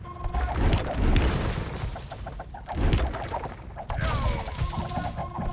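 Bombard cannons fire in Age of Empires during a 2v2 match on the Arabia map, producing several heavy booming blasts with crashing impacts that come in uneven waves over a steady battle din.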